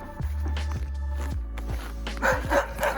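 A dog barks a few times in a snowy park on an extremely cold winter day in Yakutsk, loud low woofs spaced out, with crunchy footsteps and rustling clothing nearby.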